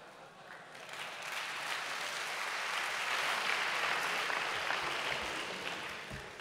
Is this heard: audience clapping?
yes